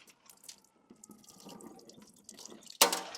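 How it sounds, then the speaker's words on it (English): Water drains from a houseplant pot filled with LECA clay pebbles. A soft trickle builds, then a sudden loud gush pours out at the end. "I'm just gonna pour out all of that water"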